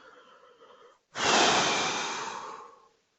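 A long, forceful exhale through the mouth during a guided yoga breathing exercise follows a softer breath, loud and close, then trails off into silence.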